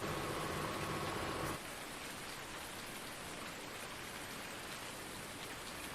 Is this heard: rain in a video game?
yes